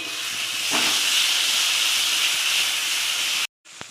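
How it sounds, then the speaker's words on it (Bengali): Potatoes sizzle loudly in hot spiced oil with softened onions for a katla fish curry, a steady close frying hiss that cuts off abruptly near the end before a brief return. "আলুগুলো দিয়ে আমি আবার কষিয়ে নেব একটু।"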